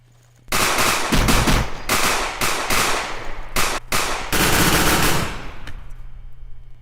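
Video game gunfire bursts out after a quiet moment, rapid loud automatic volleys in several bursts with short gaps, then fading to a low hum.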